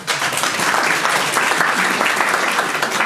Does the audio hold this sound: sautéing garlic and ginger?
no